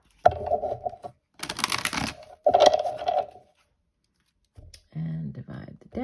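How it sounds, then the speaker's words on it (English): A Soul's Journey card deck is shuffled in short bursts of riffling and slapping card noise, separated by pauses, with a voice speaking briefly near the end. "Okay, one last shuffle."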